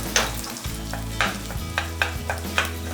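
Egg cake with Japanese eel fries in a pan, a steady close sizzle punctuated by a regular series of sharp taps and pokes, with a low hum underneath and no talking.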